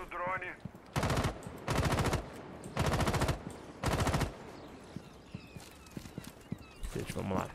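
Four loud bursts of automatic gunfire in the game Rainbow Six Siege, each about half a second long with short gaps between, then scattered quieter footsteps and small clicks; a voice speaks briefly at the start.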